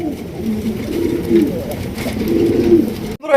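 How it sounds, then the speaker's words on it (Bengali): High-flying racer pigeons coo in low, throaty repeated calls close by, rising and falling over a soft background hum, ending abruptly. "একজোড়া আপনার হাইফ্লিং রেসার কবুতর"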